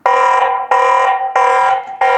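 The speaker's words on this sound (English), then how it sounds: "There's an alarm feature, so I've just literally clicked alarm, and this is beeping." A Tapo C200 security camera's alarm beeps in four long, evenly spaced pulses, loud, shrill and close, with brief gaps between them.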